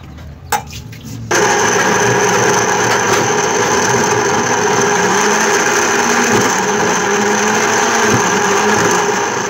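A few clicks and knocks, then an electric mixer grinder starts blending garlic with water, running with a loud, steady high-pitched whine and rumble, close by and unbroken.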